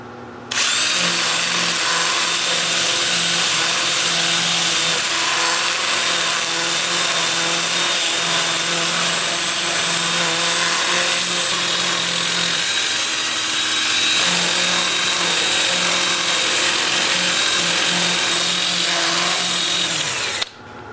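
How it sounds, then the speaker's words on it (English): Aromatic cedar sanded on a spinning wood lathe with a 2-inch disc: a steady, loud power-tool whir with a constant hum and harsh abrasive hiss, continuous for about twenty seconds before stopping. "I'll switch to my 2-inch disc starting at 80 grit and working up through 400"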